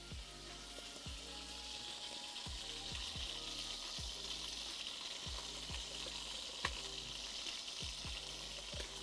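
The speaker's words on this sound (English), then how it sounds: "Man, the sizzle's so loud, it like hurts my ear." Chickpea potato curry sizzles in a pan, a constant bright hiss of frying with repeated soft stirring knocks at an irregular pace, close and steady with no talking.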